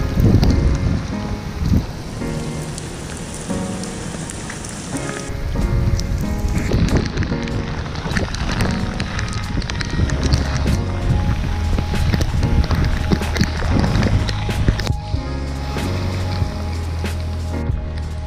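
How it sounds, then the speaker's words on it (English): Heavy rain drums continuously and loudly on a Frogg Toggs or Carhartt rain suit, a dense close patter with occasional rustling movement, no talk. "It was raining really hard, as you just saw."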